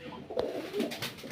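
Pigeons cooing inside a pigeon loft, a short soft throaty coo close by with a faint second call, no talking.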